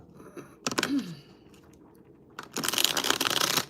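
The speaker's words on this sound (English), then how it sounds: "Let's get these shuffles going, okay?" Tarot cards being shuffled by hand in two bursts, a brief riffle followed by a longer, louder run of dense papery flicking, close up with no talking.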